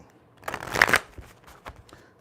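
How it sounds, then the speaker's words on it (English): A deck of cards being shuffled in a few quick riffling bursts, close and fairly quiet, with a sharp snap at the end. "let's get a good shuffle in real quick"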